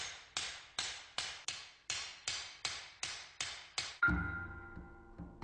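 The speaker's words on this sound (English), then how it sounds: "the steel is lengthened with one small hammer" Ten sharp metallic strikes of a small hammer on a katana steel blade in a steady rhythm, close and loud, followed by a ringing clang and lingering resonant metal clatter.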